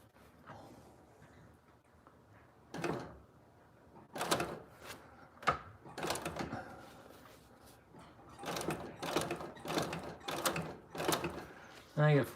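A sewing machine runs in short bursts, stitching thread while a person holds the threads for the first few stitches; intermittent mechanical clatter with pauses and handling noises in between, fairly close.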